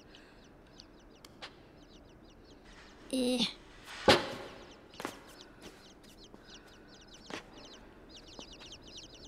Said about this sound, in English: I can hear chickies again.